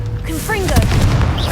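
Confringo fire blast spell in Hogwarts Legacy hits with a loud close boom and crackling fiery rumble, preceded by short whistling spell tones, over steady battle noise.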